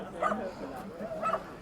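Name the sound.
puppies barking at a dog market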